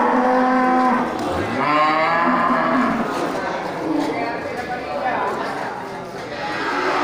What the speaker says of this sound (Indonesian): ini satu ekor sapi besar ya, jenis sapi simental